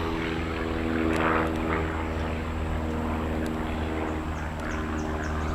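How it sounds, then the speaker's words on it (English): A propeller airplane drones steadily overhead above a cut flower garden, a continuous loud engine hum with a slight swell partway through, heard alone without talk. "Sorry for the plane."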